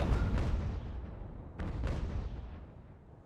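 Naval cannons firing in Ultimate Admiral: Age of Sail, two heavy booms about a second and a half apart, each rolling into a long fading rumble.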